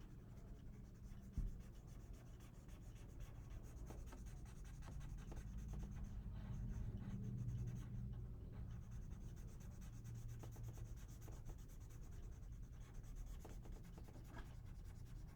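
Charcoal residue rubbed across paper while drawing an ear makes a continuous soft, dry scratching and rubbing, very faint and close, with small strokes blending into a steady texture.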